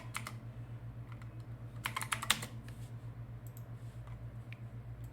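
Quiet clicks of computer keyboard typing come in short bursts, with a sparse cluster near the start and a denser run midway, over a steady low electrical hum.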